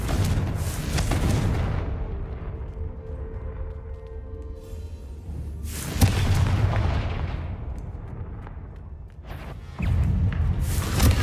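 Confringo blasting spell explosions in Hogwarts Legacy, three heavy booming bursts, each swelling loudly and then fading into a low rumble, separated by quieter stretches.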